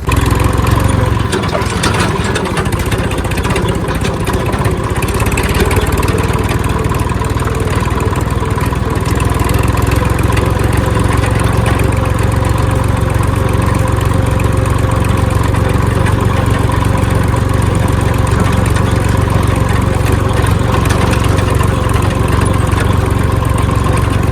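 A farm tractor's engine idles steadily and loudly up close, a continuous low, throbbing rumble with no pauses or changes in pace and no talking.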